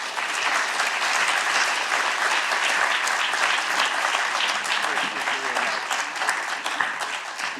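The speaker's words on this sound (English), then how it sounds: "So I would like to give one round of applause again for both speakers." An audience at a memorial lecture applauds the speakers, a dense, steady round of clapping that carries on evenly throughout at close range.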